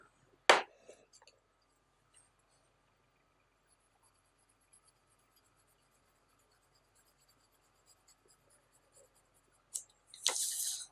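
A B graphite pencil scratches across paper in a short, faint burst near the end, following a single sharp click and long quiet stretches.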